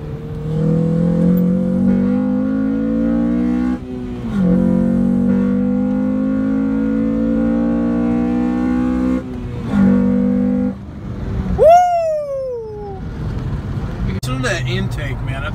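Honda Civic Si engine with an aftermarket intake, revving hard through rising gear pulls during a street race. The loud engine roars with a few shifts and a sharp whistling squeal near the end, while people talk excitedly over it.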